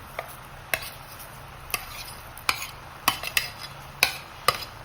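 Spoon stirring fried dates, ginger, garlic and green chillies for pickle in a pan, about a dozen sharp metallic scrapes and clinks at an irregular pace, close and fairly quiet over a faint background hum.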